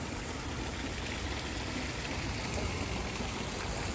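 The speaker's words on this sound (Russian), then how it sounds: "Вот таком мосту, по которому прям течет вода." Water runs steadily across a bridge in a park in Paris, a soft, even rushing flow like a small stream that holds the same level throughout with no voices over it.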